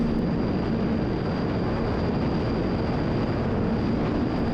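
A bush plane making a low flyby at Hatcher Pass, a loud steady engine drone with buffeting wind noise on the microphone throughout, no voices.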